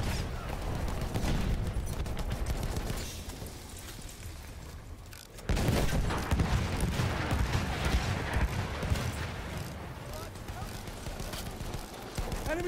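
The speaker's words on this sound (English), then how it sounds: "Machine gun over there." Dense battle noise from Battlefield 1 in a desert frontline setting: continuous rattling gunfire and heavy booms, loud and steady with a brief lull, while a voice talks over it.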